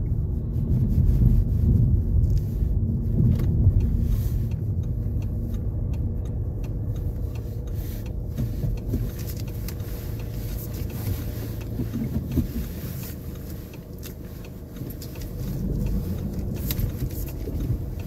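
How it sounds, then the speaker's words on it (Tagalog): Steady road traffic with many cars passing, a continuous low rumble and hiss that swells and eases, heard from close by with wind buffeting the microphone and no talk. "Daming sasakyan ah."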